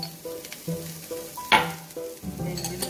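Ginger dropped into browning onions in a pan for an Asian noodle dish, giving a bright burst of sizzle at mid-clip amid softer frying and stirring sounds, with no talking.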